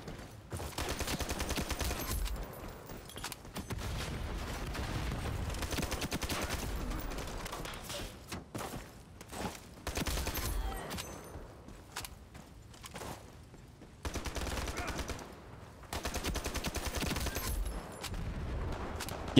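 Repeated bursts of automatic gunfire in the online shooter Ironsight, loud and close, with short pauses between volleys and a few quieter gaps where the shooting drops away.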